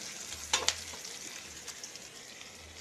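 Fried fish is stirred in a hot pan (karahi) over a soft sizzle, with a few sharp utensil clicks against the metal and no voices.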